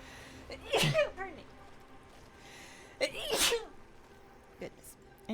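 Two sneezes spaced a couple of seconds apart, each a sharp vocal burst that trails off, fairly close and loud over a soft background.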